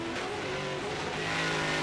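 Race car engine roaring at speed on a circuit, a steady loud drone with harmonic pitch lines that dip and shift as the car changes up a gear while accelerating, with no talk over it.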